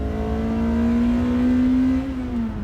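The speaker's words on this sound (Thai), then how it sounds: "อัตราเร่งเกียร์สองนะครับ" A 2010 Toyota Corolla New Altis with the 2ZZ-GE engine accelerating hard in second gear, a loud, steady climbing engine drone heard from inside the car throughout, with no talking.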